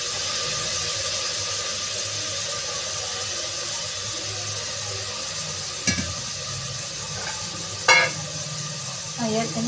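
Soybeans go into a pan for a Tamil stir-fry alongside plantain and radish; a steady broadband sizzle of frying runs throughout, broken by a few sharp scrapes of a spatula against the pan near the end, with no talk.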